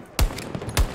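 Gunfire in Battlefield 2042 during a Conquest match: two sharp, heavy shots about half a second apart, each with a deep booming tail, loud and close.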